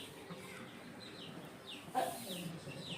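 Roosters clucking softly as they are hand-fed small balls of homemade medicine for a neck ailment, with a sharper, louder call near the middle and steady low farmyard background.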